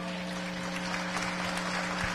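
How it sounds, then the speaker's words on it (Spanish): Applause from an assembled audience at a Peruvian presidential address to the nation, following words directed at the Armed Forces; a steady, dense wash of clapping held at moderate level throughout, with no voices standing out. "Aplauden tras las palabras de la presidenta Boluarte dirigiéndose a las Fuerzas Armadas"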